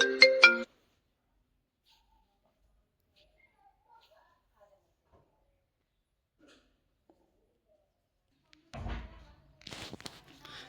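A phone ringtone from a patient calling from a clinic, a short burst of bright harmonic tones at the start, followed by long silence and then muffled movement and faint talk near the end.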